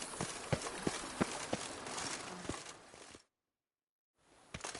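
Horse galloping in a Witcher video game, rhythmic clip-clop hoofbeats with a steady rushing background, loud and close, breaking off into a second of silence before resuming.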